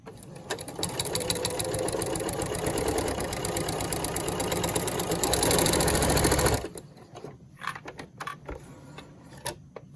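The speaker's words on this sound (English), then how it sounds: "I'm going to sew them within the 1/2 inch seam allowance, and I'm just going to go back and forth a couple times" A sewing machine stitches fabric straps back and forth within a half-inch seam allowance on a quilted Easter basket, a loud continuous rapid needle clatter for over six seconds that stops abruptly, followed by quieter handling clicks.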